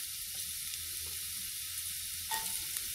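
Chopped garlic frying in hot olive oil for chicken fried rice gives a steady soft sizzle, with a brief sharper crackle and clink near the end, heard close and without talking.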